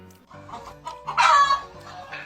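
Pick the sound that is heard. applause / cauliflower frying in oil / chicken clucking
chicken clucking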